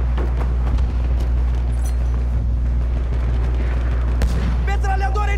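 Enemy machine gun fire in the World War I shooter Battlefield 1, rapid distant bursts of shots and booms over a heavy, constant low rumble of battle, with a voice briefly heard.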